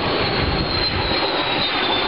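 Aerobatic display airplanes fly at Estonian Aviation Days 2012, four aircraft in formation with one rolling around the others, giving a loud, continuous engine roar that stays steady without talk.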